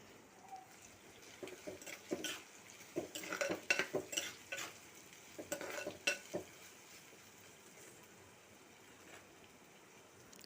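Curry being stirred in a pot on the stove, a burst of scraping and clattering utensil strokes in the middle over a faint simmering hiss, quiet and with no talk.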